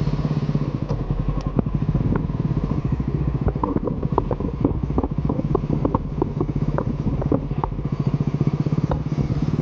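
A motorcycle engine starts and runs at a steady, rapid thump close by, with mechanical clatter over a low continuous rumble and no talking.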